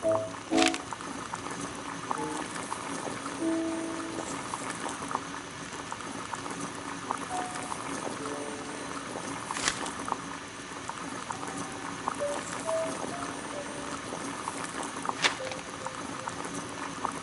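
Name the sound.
water boiling in a kettle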